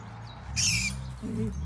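A single short, harsh rook call rings out once over a low background hum in Kaliningrad, close and fairly loud.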